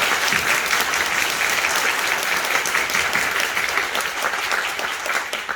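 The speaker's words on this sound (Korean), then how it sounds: "그분들께 감사의 박수 부탁드리겠습니다." A musical theatre audience at a King Arthur curtain-call stage greeting applauds the theatre crew and staff, producing thick, sustained clapping from a large crowd that holds steady and tapers only slightly at the end.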